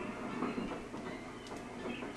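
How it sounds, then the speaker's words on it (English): The train ride in the video game Paper Mario: The Thousand-Year Door gives a steady, low rumbling rail drone with faint rhythmic clacking. It runs continuously and evenly under no speech. "I think we can just skip through the train ride."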